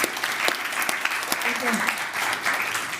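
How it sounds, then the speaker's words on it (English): An audience at a circular fashion pitch event applauds after a question session, a dense sustained wash of clapping lasting a few seconds, with some voices mixed in underneath. "Give them a round of applause."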